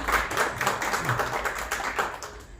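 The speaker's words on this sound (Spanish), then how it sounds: "Un aplauso, por favor" An audience at a cultural reading event in Puebla claps fairly close, a busy burst of individual handclaps with an uneven rhythm for just under three seconds.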